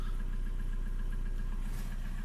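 A steady TDI diesel engine idle with an even, low rumble and faint periodic ticking, running continuously at close range without talk.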